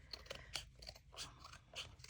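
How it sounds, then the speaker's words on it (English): Scissors snipping paper for a Christmas junk journal, a series of soft, quiet crunching cuts repeating in an irregular rhythm, close up. "And I'll use my scissors because now I kind of have a guide."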